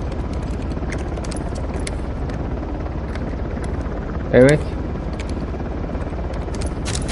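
A helicopter in the video game Uncharted thrums as a steady, moderately loud rotor drone throughout, with a brief spoken word and a short game sound partway through.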